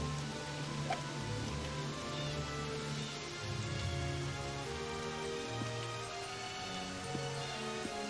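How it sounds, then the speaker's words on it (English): Rain patters steadily in the golf game Disney Golf on PS2, a soft continuous hiss of drops under quiet game music tones. "It started to rain."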